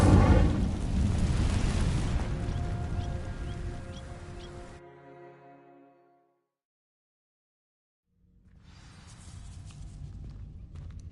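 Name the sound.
Incendio fire spell burning dry vines in Hogwarts Legacy, video game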